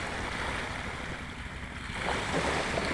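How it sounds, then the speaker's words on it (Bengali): Steady rush of choppy water on the Meghna River at Chandpur, waves lapping one after another, wind noise on the microphone, swelling slightly louder toward the end. "এই যে আমরা দেখতেছি কতগুলো ঢেউ একটা পর একটা আসতেছে"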